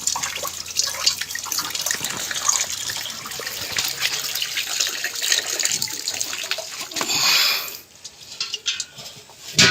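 Water gushes and splashes noisily from a gas cylinder, a loud continuous rush with bursts of spatter that drops off sharply near the end.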